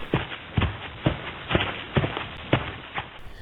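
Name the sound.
Toy Chica footsteps in vent, FNAF Help Wanted VR video game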